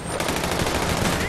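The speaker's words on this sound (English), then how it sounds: "I got a machine gun." Automatic machine-gun fire in Grand Theft Auto 5 rattles out as a rapid, continuous burst of loud, closely spaced shots with no pause.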